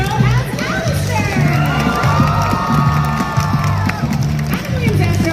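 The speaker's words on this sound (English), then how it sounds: "let's give a big round of applause for Adam Williams-Astro as Alistair" A large convention audience at LA Comic Con claps and cheers continuously, with whoops and shouts rising from the crowd and rhythmic low thumps underneath, loud and sustained throughout.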